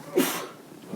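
A single short sneeze in a quiet commissioners' meeting room during a public hearing, moderately close and alone, with no talk around it.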